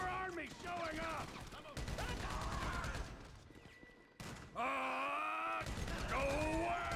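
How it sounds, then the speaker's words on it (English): Video game gunfire, rapid bursts of shots layered under dense game music and groaning effects, loud and continuous with a brief drop in the middle. "So I guess we're shooting our way out of here."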